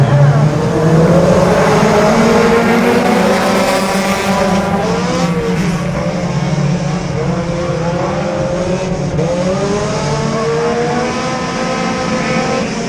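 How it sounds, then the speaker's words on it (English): Race car engines buzz steadily at a Brownstown Bullring dirt track, a layered droning whine of several cars running together with rising and falling pitch, loud and continuous throughout. "I hear the little buzz of the motors coming to the line there."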